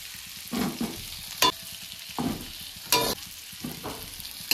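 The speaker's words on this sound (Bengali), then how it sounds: "এবার আমি তেলে ছেড়ে দেব।" Jackfruit fritters frying in hot oil, a steady close sizzle broken by several sharp scraping and stirring bursts at irregular intervals, with no voices.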